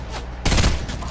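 Video game gunfire in a solo squads battle royale match: a loud rapid burst of shots slams in near the middle and stays dense for a moment before easing off under game sound.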